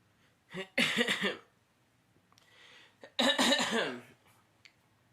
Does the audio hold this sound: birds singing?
no